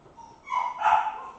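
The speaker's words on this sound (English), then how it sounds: "Oh, the fussiness of the puppy." A puppy fusses nearby with a brief whimpering whine that rises into a short yip-like bark, alone in a quiet room.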